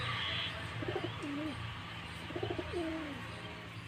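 Madras pigeons coo in two soft rolling phrases over a steady low hum, faint and somewhat distant, with no talk.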